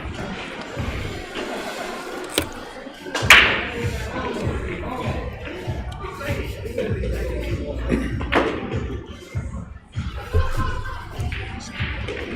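An 8-ball pool shot in a tournament match brings sharp clacks of balls striking, with thuds and taps of balls dropping and rolling, amid background shuffling and faint voices.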